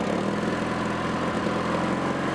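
A Bolens 2000 garden tractor engine running at full throttle, a steady, close, loud droning rumble with an even pulse throughout and no talk.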